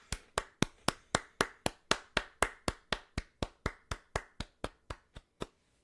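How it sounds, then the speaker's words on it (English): Slow, evenly spaced single hand claps, about twenty in a row at a steady beat, close and crisp with short decays, gradually softening before stopping, with no talk over them. "Big round of applause."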